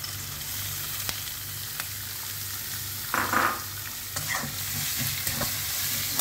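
Green chillies and browned garlic sizzling in hot oil for kurdai bhaji, stirred with a spatula that scrapes and clinks against the pan at irregular intervals, close up, with a louder burst of frying midway and no talking.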